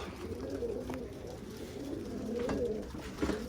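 Pigeons coo softly and repeatedly near an outdoor loft, the low rolling calls overlapping in a steady stream with faint background noise and no speech.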